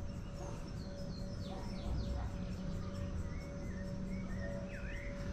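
Birds chirp and trill in a patch of woodland near a cable car in Triunfo, Pernambuco. Scattered, fairly faint calls sit over a constant low hum and background noise.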